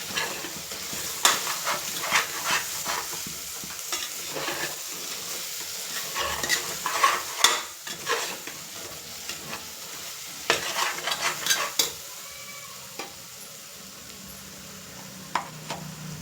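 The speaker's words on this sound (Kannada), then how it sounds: "ಇದು ಹಸಿ ವಾಸನೆ ಹೋಗೋ ಗಂಟ ಕಲಿಸ್ಕೊಳ್ಳೋಣ ಚೆಂದಾಗಿ" Masala for veg pulao is stirred and fried in a pan, with repeated close scraping and clattering spatula strokes over a bed of sizzling oil that grows calmer and sparser in the final seconds.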